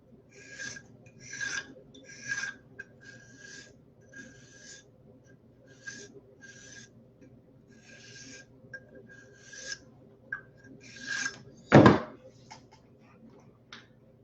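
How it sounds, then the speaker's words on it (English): A tool blade is sharpened by hand with a steady series of short rasping strokes, close and fairly quiet, followed by one louder scrape near the end. "this is a better way to sharpen your tools"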